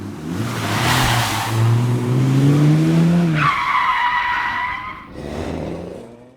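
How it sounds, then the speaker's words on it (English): An AI-generated car engine drones and rises, then the tires screech in a sustained squeal as the car drifts, with a second, shorter screech after a brief pause, loud and close. "Some of the generations also include the tire screeching when the car starts drifting."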